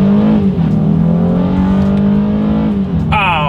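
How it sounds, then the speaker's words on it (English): A 2022 Honda Ridgeline pickup accelerating hard from a standstill in manual shift mode, its engine droning loud and close with a steady pitch, briefly dipping at a shift before a voice cuts in at the end. "let's see how quickly we can get our new Ridgeline here up to speed"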